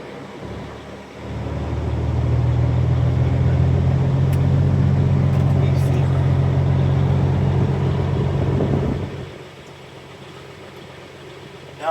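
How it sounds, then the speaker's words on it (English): A truck engine fires and settles into a loud, steady low idle to build air pressure, holding for several seconds before abruptly dropping away to a quieter hum near the end. "we can go ahead and start the truck up"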